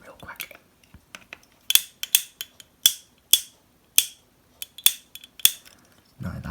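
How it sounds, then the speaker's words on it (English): Ratchet joints in the legs of a Takara Transformers Rise of the Beasts Ultimate Optimus Primal figure click sharply in an irregular series of a dozen or so crisp snaps, close up, with quiet gaps between them. "his legs are actually on pretty clicky ratchets"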